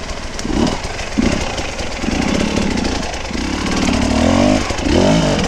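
A two-stroke enduro motorcycle engine screams loud and close as its rear wheel spins on hard enduro terrain, a raspy continuous drone that surges and wavers in pitch throughout.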